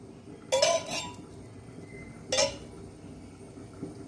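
Two metallic clanks of a pan being set down, a couple of seconds apart, against a quiet room.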